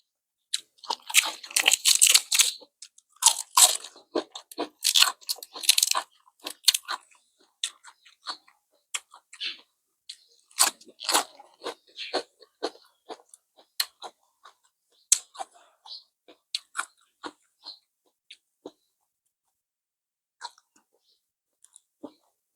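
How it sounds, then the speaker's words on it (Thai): Close, loud crunching bites of crisp cabbage eaten alongside steamed squid, irregular crisp crackles and chewing that come thick at first and then thin out into sparse bites. "กระหล่ำก็กรอบ"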